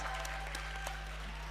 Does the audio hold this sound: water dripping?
no